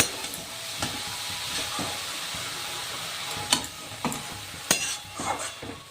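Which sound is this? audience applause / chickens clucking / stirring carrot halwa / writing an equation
stirring carrot halwa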